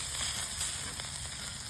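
Halved redfish on the half shell sear on a griddle over an open fire, giving a steady, faint sizzle with soft crackle.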